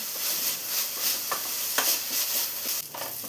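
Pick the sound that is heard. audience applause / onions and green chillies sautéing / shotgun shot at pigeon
onions and green chillies sautéing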